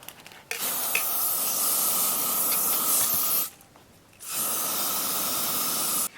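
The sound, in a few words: hairspray aerosol spraying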